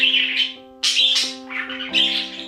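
Budgies sharing a cage chirp and squawk in quick, overlapping bright calls, close and fairly loud, with a few harsh squawks among the tweets.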